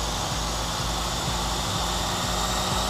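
Small Syma S107G RC helicopter rotor spinning at half throttle, a steady close whirring buzz with constant level throughout and no talking.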